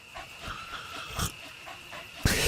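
D-Dog, the canine companion in Metal Gear Solid V, pants close up in quick, soft rhythmic breaths, moderately loud throughout, with a sharper burst at the end.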